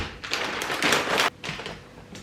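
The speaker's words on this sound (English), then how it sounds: "Cut some fish cake." Knife slicing through fish cake on a cutting board, a few brisk close taps and scraping cuts in quick bursts with short pauses.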